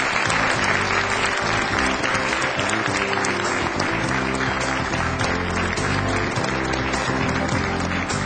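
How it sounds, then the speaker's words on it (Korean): Sustained applause from a large lecture audience, dense and steady clapping that fills the whole stretch without pause, with no talking over it. "뜨거운 박수를 부탁드리겠습니다"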